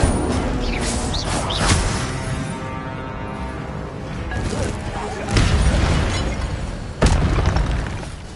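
Fire spell blasts in the Hogwarts Legacy video game on PS5: a dense, loud roar of game effects with two sharp, booming bursts near the end, layered over continuous background action.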